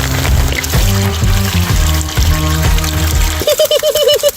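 Hot water pouring and splashing into a pan of Home Depot sand during gold panning, a loud continuous rush with clattering and sloshing, ending in quicker gurgling trickles at close range.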